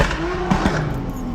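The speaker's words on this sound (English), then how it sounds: "we just hear a car like start popping" A car engine pops and crackles loudly over a steady motor drone, with a couple of sharp bursts near the middle of the short stretch, heard at close range outdoors.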